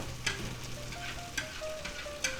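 Sauce reducing in a pan after searing chuck steak, a steady close sizzle and bubbling with a few sharper pops and crackles, no voices over it.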